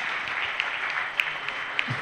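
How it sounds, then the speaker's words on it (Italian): Audience at a fashion show in Civita D'Antino applauding, a steady continuous patter of many hands clapping at moderate distance, with a few sharper claps standing out. "Un applauso a Marcello per tutto quello che fa"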